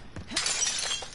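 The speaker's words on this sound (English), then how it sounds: "I heard broken glass around me." Glass shatters in a video game, a short, bright crash with tinkling fragments, fairly close and alone.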